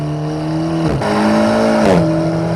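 A car on full throttle on a wet Nürburgring with a little wheelspin, its engine roaring loud and close in onboard view, pitch climbing then dropping sharply at two quick upshifts.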